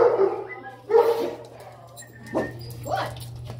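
Dog during an obedience training session, barking several times in short bursts with some whimpering, close by while a trainer talks.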